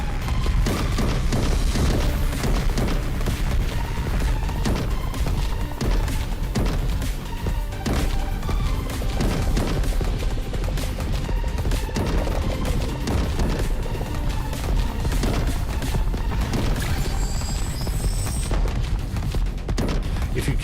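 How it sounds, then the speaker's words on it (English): Explosions in the Atari video game Caverns of Mars: a dense, continuous barrage of booms and crashes that runs loud and unbroken for the whole stretch. "And then their explosion, even though I took them out, still takes out a building."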